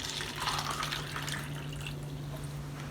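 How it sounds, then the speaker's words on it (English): Water poured into cups, a soft continuous splashing and filling that swells early then settles into a quieter steady flow, with a constant low hum beneath. "So you're going to pour a little bit of water into your cups."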